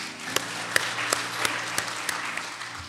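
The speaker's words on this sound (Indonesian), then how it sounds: "Kita tepuk tangan untuk Tuhan Yesus." A church congregation applauds steadily during an online worship service, with a few louder claps standing out from the continuous patter.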